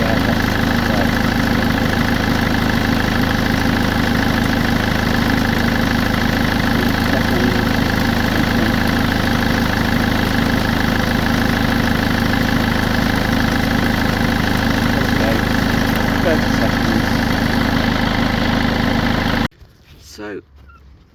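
A diesel engine idles steadily and loudly during a fuel injector return test, a constant close rumble running unbroken for about nineteen seconds before it cuts off abruptly, leaving quiet background noise.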